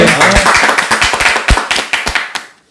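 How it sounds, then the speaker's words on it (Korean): A few people clap together in a studio during a talk show, a close, loud run of sharp claps that thins out and stops near the end. "우리 그래도 박수 한번 치시죠. 박수."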